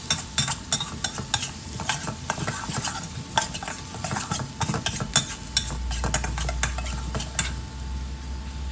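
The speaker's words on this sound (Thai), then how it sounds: "ใส่น้ำมันให้ร้อนนะครับ ตามด้วย พริกกระเทียมที่เราปั่นนะฮะ ลงไปผัด" Blended chili and garlic stir-frying in hot oil for a spicy Thai beef and fresh bamboo shoot dish, with quick rhythmic scrapes and clinks of a spatula against the pan over a steady close sizzle.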